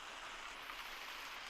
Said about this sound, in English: Rain in Gorilla Tag?